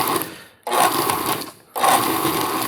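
Food processor pulsing cold butter into a dry biscuit mix for cheesy garlic buttermilk biscuits: three loud, close whirring bursts with short quiet gaps between them.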